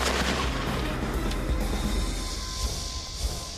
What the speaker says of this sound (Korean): 폭발물 가까이 물포총을 거치하고 원격 조준.